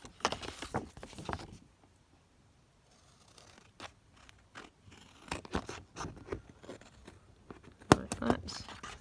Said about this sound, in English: then I'm just going to cut that down